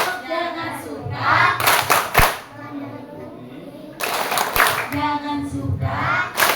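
Children at an elementary school anti-bullying session clap in rhythmic bursts while chanting together, with an adult voice leading between rounds; claps come in quick clusters over loud group speech.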